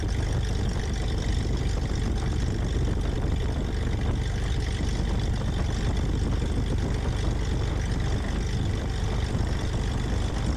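A small airplane, first a far-off dot, lands on a runway as a steady engine drone that holds loud and even throughout, with no talk.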